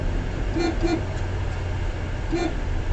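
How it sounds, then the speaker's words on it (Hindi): Three short car horn honks, two close together then one more, sounding over a steady low rumble of engine and road noise on a mountain road. "अभी मैं यहाँ पे थोड़ा हॉर्न बजाऊँगा"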